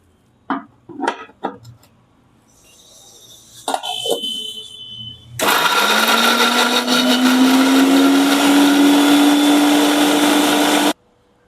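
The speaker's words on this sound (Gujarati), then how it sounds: "હવે આપણે મરચાંને પીસવાના છે" A kitchen blender grinds green chillies for chutney, a loud continuous whirring roar whose pitch rises slightly as it spins up, after a few brief clinks and knocks of loading the jar.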